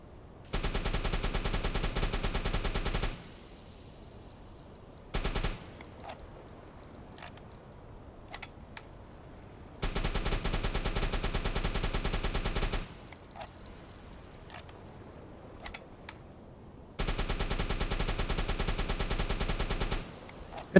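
A submarine deck gun firing in the WW2 game UBOAT, three long sustained bursts of loud rapid fire, each a few seconds long, separated by quieter stretches with scattered single shots and clicks.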